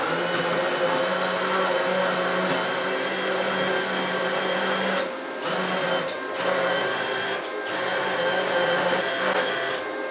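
Flux core welder feeding wire out through the gun with the contact tip removed, a steady whirring motor drone with a couple of brief pauses, close and fairly loud.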